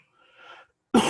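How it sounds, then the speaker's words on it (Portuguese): A single sharp cough from a person with a sore throat bursts out at the end, close to the microphone, after faint breathy sounds and near silence. "então estou tossindo muito"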